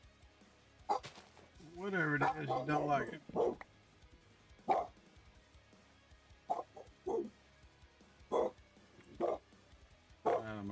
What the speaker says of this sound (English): Not sure what she's barking at.